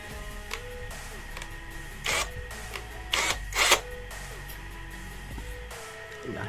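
A power drill widening a hole in a plastic part for a recycled automatic chicken water drinker, heard as short whirring bursts of drilling over a steady motor hum.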